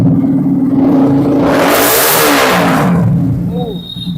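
A motorcycle with a full-system Akrapovic exhaust revs up and holds a throaty roar before easing off, a deep rumbling exhaust note with a rising, swelling pitch.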